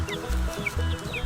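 Backyard chickens cluck softly and briefly up close, a few short throaty calls over a faint low background hum.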